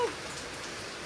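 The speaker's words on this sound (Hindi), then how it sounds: "बारिश बहुत तेज हो रही है," Heavy rain falls steadily as a dense, even hiss. The sound is continuous and fairly soft, with no voices.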